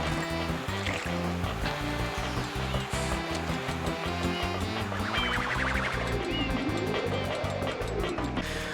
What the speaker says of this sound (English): The water's sound design is great too, both in and out of the water